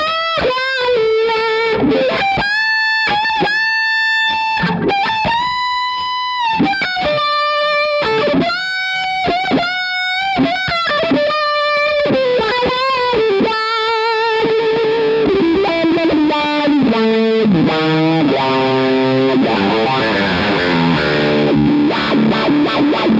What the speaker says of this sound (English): Really loving the Wahcko. It sounds killer with Fuzz.